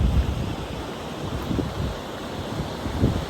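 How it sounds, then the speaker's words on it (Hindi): A natural waterfall along the Gaumukh trek in the Himalayas rushes in a steady broadband roar, mixed with gusty wind buffeting the microphone and a few louder surges. "What a wonderful waterfall, natural एकदम।"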